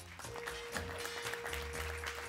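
An audience at a business trophy ceremony claps steadily as a pitch presenter is welcomed, a dense, even patter of many hands filling the room, with a faint steady hum underneath.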